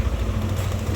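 Rough, steady engine rumble from a Yamaha NMAX scooter with a faulty tensioner, running hot, heard close and loud as a continuous low drone without talk.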